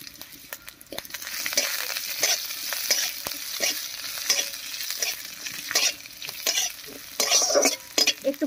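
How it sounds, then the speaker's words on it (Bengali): Whole coriander seeds, cumin and green chilies frying in hot oil, a steady crackling sizzle with spatula stirring scrapes, close and continuous with brief louder bursts of spitting. "তেল গরম হয়ে গেছে, এবারে তেলের মধ্যে দেবো 1 চামচ গোটা ধনিয়া, 1 চামচ গোটা জিরা,"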